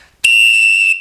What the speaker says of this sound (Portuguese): Os apitos também, se você vai fazer uma chamada, por exemplo, de caixa, de maracatu,